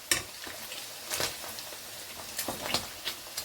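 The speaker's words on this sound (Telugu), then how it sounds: "పన్నీర్ ఇలా అయితే వేయించుకున్నాం కదండి" Paneer frying in a pan, a soft, steady sizzle with occasional stirring scrapes and light clinks, fairly quiet and heard alone.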